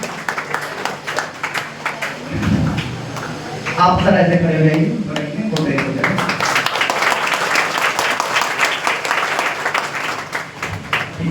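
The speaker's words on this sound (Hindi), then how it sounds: "ढेर सारी तालियां भाई, ढेर सारी तालियां।" An audience at an honouring ceremony held by a government department applauds steadily, the clapping continuing throughout while people talk over it nearby.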